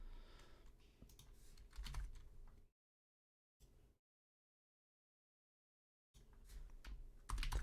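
Keys clatter on a computer keyboard in quick irregular bursts of clicks, close and fairly quiet, cutting out into near silence for a few seconds before the typing resumes.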